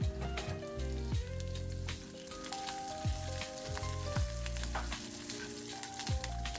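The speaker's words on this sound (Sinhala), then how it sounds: "මේ වෙලාවේදී අපි මේකට කරපිංචා ටිකයි අවු මිරිස් ටිකයි එකතු කරගන්නවා." Curry leaves and green chillies hit golden fried onions in hot oil for a spine gourd mallum, giving a continuous crackling sizzle with clinks of stirring throughout.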